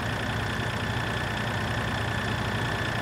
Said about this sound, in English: Man, this tractor moves.